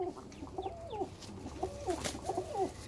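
A female ice-quality pigeon in a loft coos close by in a quick run of soft, rolling calls, repeated several times with slight clucking undertones and no one talking.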